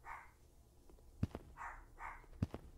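A dog barks in the horror video game Midnight Nightmare, two sharp barks each followed by a quick second yelp, fairly faint against a quiet background with soft ambient tones.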